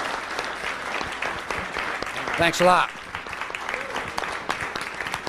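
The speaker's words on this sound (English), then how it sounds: "Let's give him a round of applause." Round of applause from an audience at a 1996 lecture, steady clapping throughout, with someone briefly speaking over it midway.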